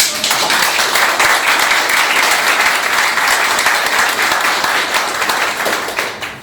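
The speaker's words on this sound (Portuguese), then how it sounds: "gostaria de solicitar uma salva de palmas" An audience at a joint Rotary Club meeting in Maringá applauds steadily, a dense sustained round of clapping that stays loud throughout before tapering at the end.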